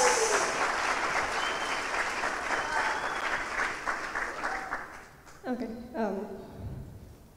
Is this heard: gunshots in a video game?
no